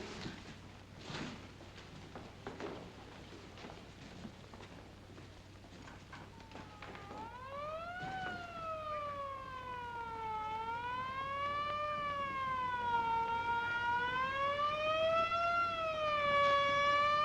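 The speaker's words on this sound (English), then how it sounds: "I was just curious about that siren." A wailing siren rises and falls in long sweeps, growing louder as it approaches over quiet background noise.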